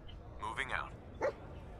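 A dog in the video game Fallout 4 gives a couple of short, quick yips and barks, a burst near the middle and another a moment later, fairly faint against a quiet background with a voice nearby.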